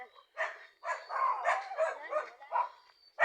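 A dog barks and yips repeatedly in short bursts, close and fairly loud, with an irregular rhythm.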